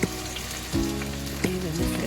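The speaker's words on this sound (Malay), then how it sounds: "kita panaskan minyak Kita goreng dulu ketam tadi." Crab pieces coated in corn flour fry in hot oil, giving a soft, steady sizzle with short bursts of crackling as pieces settle in the pan, quiet and close with no voices.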